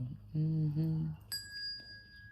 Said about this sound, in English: Let me ring my little bell